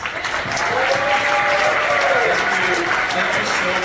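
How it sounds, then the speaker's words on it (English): An audience at a town hall meeting in Jonesborough, Tennessee applauds steadily, a dense wash of clapping that sustains throughout at moderate loudness, with voices mixed faintly beneath it. "Another round of applause, please."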